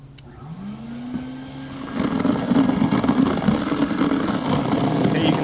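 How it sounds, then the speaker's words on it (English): Insulation blowing machine loaded with cellulose starting up, the agitator motor winding up with a rising hum and then a louder, steady whooshing roar as the blower joins, close and continuous. "I'm going to turn the agitator on first,"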